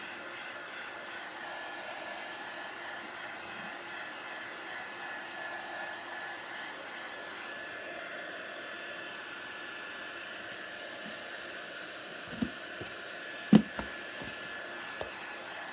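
A hair dryer blows hot air over freshly painted wooden carrot decorations, a steady broadband whoosh running continuously at close range, with a few light knocks of wood near the end.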